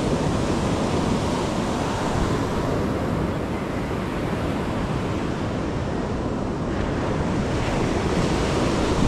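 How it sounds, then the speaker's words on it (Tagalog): Big ocean waves crash and surge continuously onto the shore at a beach in Reparo, a loud, steady roar of surf mixed with wind buffeting the microphone, with no talk throughout. "Ay dito medyo malalaki yung alo sa talbukan."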